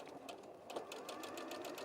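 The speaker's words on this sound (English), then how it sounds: "So all I'm doing is roughly sewing." A sewing machine stitches straight over fabric in a quiet steady run, its needle ticking in quick even pulses, close and soft.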